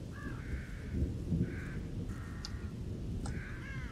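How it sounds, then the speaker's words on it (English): Crows cawing in the horror video game The Evil Within: several harsh caws repeat at irregular intervals over a low rumbling ambience, fairly distant and moderately loud. "Those are crows."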